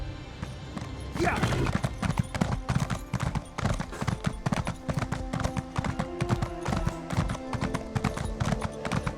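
Rapid hoofbeats of a galloping horse in a video game pound steadily and close, with a brief whinny near the start.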